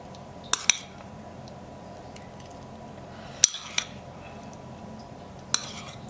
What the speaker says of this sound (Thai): ตักราดอย่างนี้นะครับผม